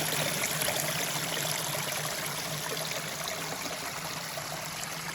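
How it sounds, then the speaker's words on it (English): Forest stream trickling over rocks in dry drought conditions, a steady, soft broadband wash of running water heard close by and alone, with no voices. "I think I hear water."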